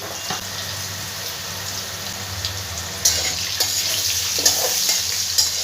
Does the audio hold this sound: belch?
no